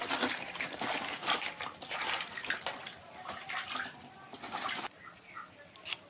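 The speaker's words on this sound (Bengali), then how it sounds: "এই যে ধুয়ে কেটে নিচ্ছি" Home-grown vegetables are washed under running water at home before being cut. Uneven bursts of close splashing and pouring water come and go, then stop abruptly near the end, leaving only faint drips.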